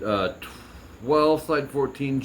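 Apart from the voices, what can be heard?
No everyday noise stands out behind the speech.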